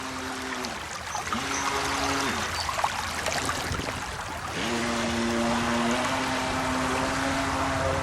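A small 3D printed model jet boat runs at full throttle on a stream, its high motor whine rising and holding steady over continuous rushing water, close and fairly loud.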